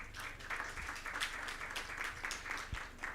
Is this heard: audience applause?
yes